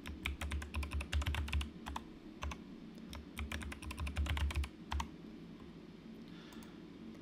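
A password is typed on a computer keyboard in quick bursts of crisp, close key clicks with short pauses between runs, over a low steady hum and no talking.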